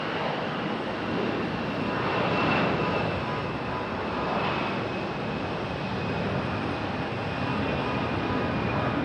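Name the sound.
airliner taking off from runway 5 left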